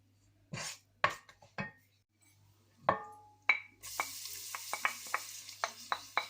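Cumin seeds and bay leaf heating in a pan for kadhi pakora: a few sharp stirring clicks and taps, then a steady close sizzle that rises and continues under repeated light clinks.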